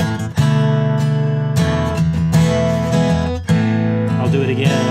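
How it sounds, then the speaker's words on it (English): An acoustic guitar plays a chord progression in A, moving toward a D2 voicing, with several strummed chords ringing out clearly and alone at close range. "So we end up with a chord progression that sounds like this."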